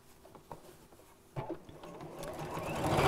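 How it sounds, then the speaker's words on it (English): Sewing machine stitching red thread on red fabric for a drawstring bag, a steady soft mechanical whirr that swells louder toward the end, close and alone. "I'm stitching red on red, so it's not going to stand out anyhow."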